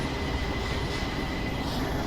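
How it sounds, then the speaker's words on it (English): Animated trains rumble through a flight simulator's airport scenery at Washington National, a steady low mechanical roll of rail traffic heard at moderate distance with no talking. "Trains coming and going."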